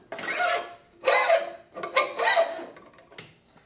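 A motorcycle fork tube slid up into the top clamp, giving three close scraping, rasping metal slides in separate pushes, followed by a fainter final scrape, with no talking.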